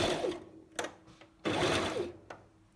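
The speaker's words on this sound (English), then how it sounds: "So now I push back stitch button and go back." Sewing machine running in short bursts while back stitching a dart, a close, loud mechanical whir that starts and stops twice, with brief clicks between runs and no talking.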